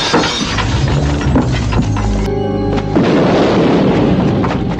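A loud, dense blast with shattering, crashing debris, followed by a rumbling roar that keeps going to the end.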